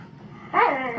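Dogs whimpering and yipping indoors, a sudden whiny, tonal cry rising midway and holding to the end over a quiet room, close and moderately loud.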